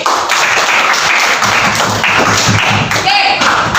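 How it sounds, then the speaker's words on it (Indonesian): A classroom of students applauds for a group after a lesson review, a steady wash of clapping that runs for a few seconds with voices mixed in. "tepuk tangan dulu buat 8D"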